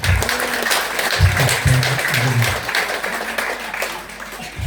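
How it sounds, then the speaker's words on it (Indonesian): A church congregation applauds during a thanksgiving Mass for a nun's perpetual vows: loud, sustained clapping from many people, with low organ or sustained tones and murmured voices underneath. "Mari kita berikan aplaus yang meriah untuk"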